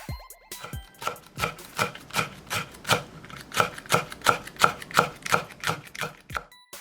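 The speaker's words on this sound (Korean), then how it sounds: "풋고추 1개는 요렇게 슬라이스." A knife slices a green chili pepper on a cutting board in a home kitchen, about fifteen crisp evenly spaced cuts in a steady rhythm, close and clear, with no talking.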